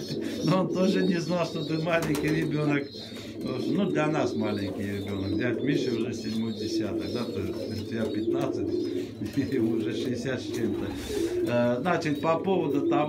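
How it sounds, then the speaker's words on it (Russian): Pigeons coo in a low, continuous murmur inside a dovecote, running steadily beneath someone talking throughout. "вы слышите гул здоровых голубей"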